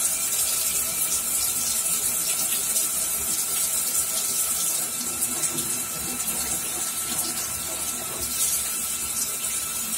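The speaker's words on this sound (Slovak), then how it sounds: "No ako nám oteká voda," Water from a shower head pours steadily into a shower stall, a dense continuous hiss and splash that stays loud and even from start to finish with no talk over it.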